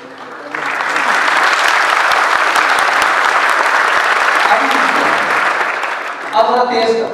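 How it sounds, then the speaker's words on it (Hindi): Crowd applause at an IT industry conference in Islamabad, starting softly then swelling into loud, steady clapping that fades toward the end as a voice speaks over it. "जब मैं हाथ ऊपर लेके जाऊं तो आपकी तालियां तेज होनी चाहिए, नीचे लेके आऊं तो कम होनी चाहिए"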